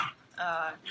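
Dogs scuffling under a tripod indoors, with short whimpers and yips rising between growly bursts, close and moderately loud over about a second.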